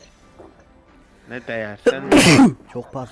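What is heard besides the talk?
sneeze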